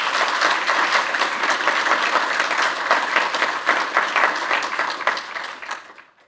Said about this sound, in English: Can we actually have a big round of applause for all of our sponsors and all of our organizers